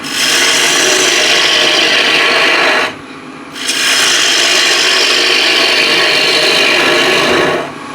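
A bowl gouge cutting into a wooden bowl blank spinning on a lathe, a loud, steady rasping shear that stops briefly for about half a second before resuming at full strength.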